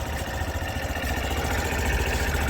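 A Honda Super Cub AA04 fuel-injected cargo scooter idles steadily at close range after a kick start, a low, even putter with a slight uneven rumble running throughout.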